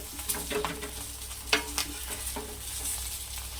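Fish fries on a banana leaf in a pan with a dense, continuous sizzle, marked by a handful of brief clicks and scrapes from turning or handling, close and moderately loud with no one talking.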